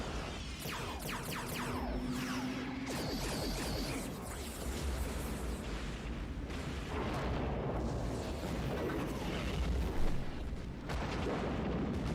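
Heavy starship weapons fire from the film Star Trek: First Contact, a loud, continuous barrage of booming blasts and bursts filling the whole stretch with sustained rumbling energy.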